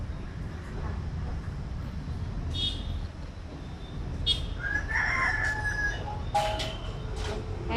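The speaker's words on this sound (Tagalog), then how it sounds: "May manok." A rooster crows a couple of times in the middle distance over a steady outdoor background hum, fairly faint, with a few other brief bird calls.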